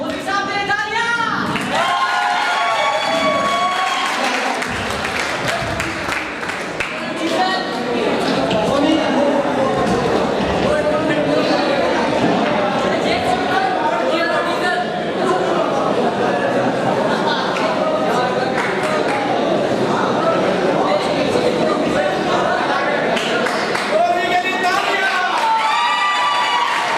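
At a college welcome party, an audience claps and cheers in a lively, swelling burst mixed with crowd chatter and shouting voices that carries on for most of the stretch.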